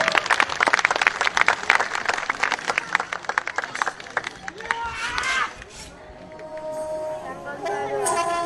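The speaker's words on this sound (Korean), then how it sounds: "박수 부탁드리겠습니다." Audience at a Thang Ta martial arts master class in Seoul breaking into dense, lively applause that fades after about five seconds, followed by a voice over a low murmur of the room.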